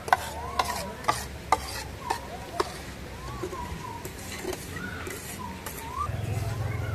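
Biscuit dough made with flour, sugar and oil is kneaded by hand in a bowl, giving soft rubbing and sticky squelches punctuated by a few sharp taps, with faint chirps in the background.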